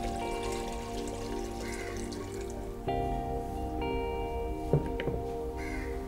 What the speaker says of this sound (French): 5 cups of water into the vessel